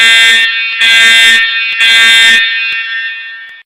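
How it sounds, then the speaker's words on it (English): Fire alarm sounders set off by a manual call point, three loud electronic bursts with pauses between them, the last fading into a lingering ringing tone. "The external sounders and the talkback units would begin to flash and produce relevant voice message such as this."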